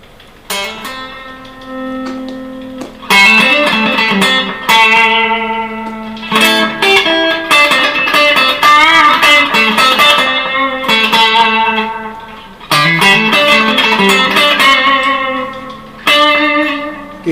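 An electric guitar plays through a Voodoo Labs Giggity overdrive pedal that is switched off, giving loud, clean-to-lightly driven strummed chords and ringing notes with reverb, up close and without talk.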